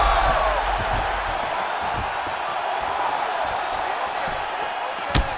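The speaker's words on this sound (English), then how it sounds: "And you hear the crowd react every time they come together." Arena crowd in the EA Sports UFC 5 fight game between Marlon Vera and Kai Asakura, a steady loud roar and murmur that swells as the fighters clash, with a sharp slam-like impact near the end.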